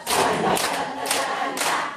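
An audience at a church laughter-therapy and senior exercise class claps in rhythm, loud broadband bursts roughly every half second across the whole stretch, with a dense crowd texture and no clear speech.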